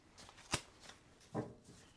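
Tarot cards shuffled by hand, two short papery riffles about a second apart, close and fairly quiet with no talking.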